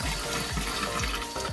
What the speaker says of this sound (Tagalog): Lagyan natin siya ng tubig. Babad natin siya.